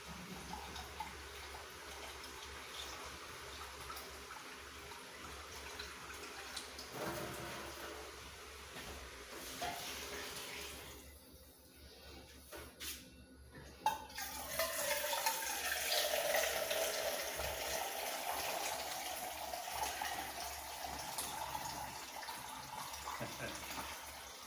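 Tap water running into a container in a home kitchen, drawn to add to beans cooking on the stove, a steady broad rush that swells louder partway through, with a brief pause and faint background noise.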